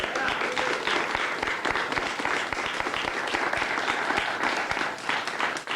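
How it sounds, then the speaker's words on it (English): A ceremony audience applauds the judges at the 2002 PEGASYS Awards, with steady, dense clapping from a crowd that holds at full strength throughout without pause. "if I could have a round of applause for my judges"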